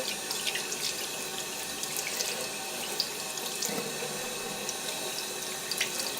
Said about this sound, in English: And then just rinse it with warm water.